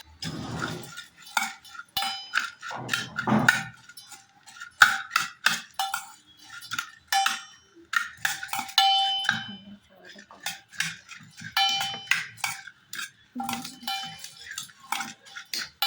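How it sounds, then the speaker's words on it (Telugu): Cut pieces being stirred and mixed in a pot, giving repeated clinks and scrapes of utensil against metal in irregular bursts, with talking in between. "ఇలా వేస్తుంటే కలుపుతూ ఉండాలి. మళ్ళీ మొత్తం మిక్స్ అవ్వాలి కదా."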